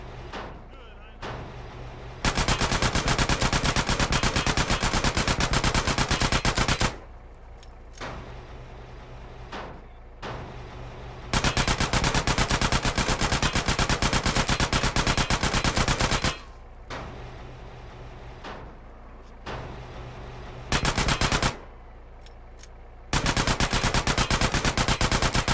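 Sustained automatic gunfire in Grand Theft Auto: San Andreas Definitive Edition rattles in long, dense bursts, broken by several short pauses where quieter game ambience takes over.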